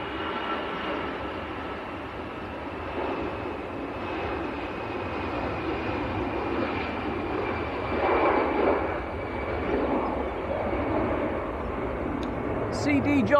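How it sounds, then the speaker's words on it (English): An EasyJet Airbus A320 bound for Gibraltar at Manchester Airport, its engines giving a steady, moderately loud broadband rumble that swells slightly toward the middle, with murmured voices mixed in. "This is EasyJet to Gibraltar. For Airbus A320."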